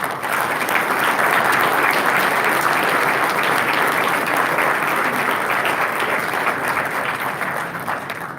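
A banquet audience at a Boy Scouts service awards dinner in Pittsburgh applauds keynote speaker Ambassador Ron Kirk: loud, sustained clapping from a large crowd, fading slightly at the end.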